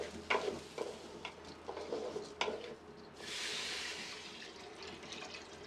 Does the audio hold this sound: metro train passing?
no